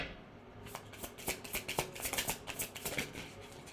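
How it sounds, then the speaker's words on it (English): Tarot cards being shuffled by hand, a quick run of soft riffling flicks and slaps at close range, quiet and without talk. "Let's pull in a tarot card to confirm that energy."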